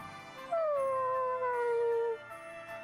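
A dog in the video game Bravely Default 2 lets out a single long howl that slides slowly downward in pitch, clear and mid-distance over a quiet game background, with no one speaking.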